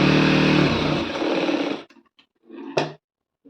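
A sewing machine stitches a bra cup, running loud and steady for nearly two seconds, then stopping, followed by a few short bursts and one more brief run near the end.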